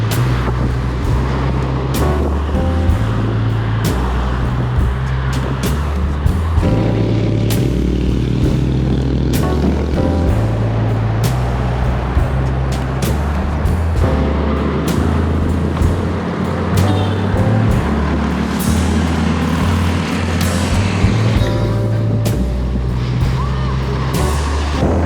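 Steady road traffic with cars, trucks and motorcycles rumbling past a cyclist on a ride ahead of the UCI Gravel Worlds in Italy, continuous and loud, with vehicles swelling and fading one after another.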